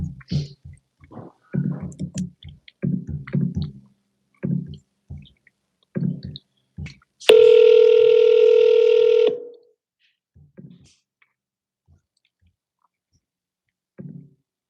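A telephone call placed to a for-sale-by-owner home listing: scattered soft handset clicks and taps, then a loud steady electronic tone held for about two seconds before it cuts off, leaving near silence.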